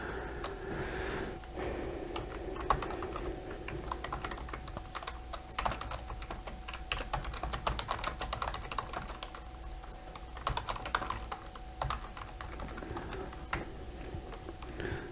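Someone types code on a computer keyboard in quick, irregular bursts of soft clicks and clacks, close by and fairly quiet, with short pauses and no talking.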